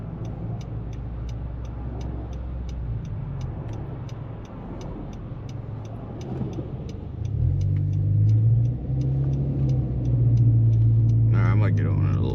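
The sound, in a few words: Honda Civic driving and accelerating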